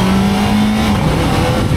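A 2025 Kawasaki ZX-4RR 400cc inline-four motorcycle revving hard, its exhaust howling loud and close in a sustained high-pitched scream with a slight dip in pitch midway.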